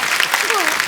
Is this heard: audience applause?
yes